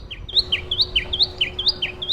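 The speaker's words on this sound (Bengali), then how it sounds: "এত শব্দ দূষণের মাঝেও টুনটুনি পাখির ডাক" A tailorbird calls repeatedly in a small-town setting, loud and close, its sharp rising chirps coming in a quick, regular series over a faint steady background hum.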